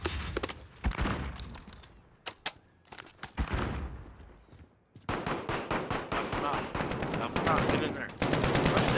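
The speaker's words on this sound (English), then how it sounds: "that's a badass LMG" Light machine gun fire in a Call of Duty match, rapid sustained bursts that start and stop before a long, loud unbroken stream, with players talking over the gunfire.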